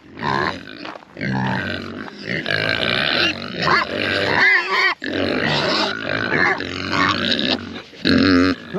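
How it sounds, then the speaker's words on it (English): Pigs on a frosty, frozen homestead grunt and squeal loudly and continuously at close range, a busy chorus of overlapping snorts and oinks with no talking. "So let's go I gotta go get the pigs fed."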